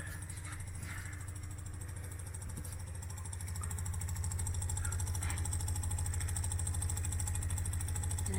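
A fuel polishing pump runs aboard a Carver boat, a steady low mechanical drone with a fine rapid pulse that grows slightly louder partway through and holds constant.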